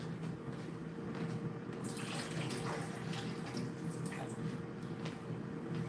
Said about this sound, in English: I'm going to drain this real quick.